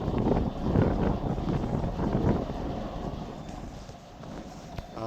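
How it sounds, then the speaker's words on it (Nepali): Strong cold wind gusting at Jeju port, rumbling against the microphone in heavy low buffets that ease slightly toward the end, with no voices. "हावा चलेको छ, निकै नै हावा चलेको छ"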